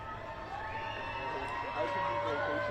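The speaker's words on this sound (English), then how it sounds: "The crowds are cheering one last time as the King gets into the vehicle" A crowd at a farewell ceremony in Arlington cheers and shouts as King Charles gets into his vehicle to leave, a steady distant roar with a voice talking over it.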